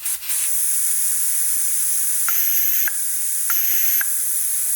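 Compressed air rushes out of a 3-port Mac solenoid valve in a boost setup, making a loud, steady, close hiss. Sharp clicks mark the valve switching twice in quick pairs.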